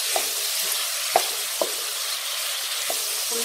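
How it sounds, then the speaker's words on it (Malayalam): Chopped tomatoes and onion frying in a pan with a steady broadband sizzle, while a spoon stirs and scrapes in a few sharp knocks spread across the clip; close and fairly loud, with no talking. "ഒരു മിനിറ്റ് നന്നായിട്ടൊന്ന് ഇളക്കി കൊടുക്കുക"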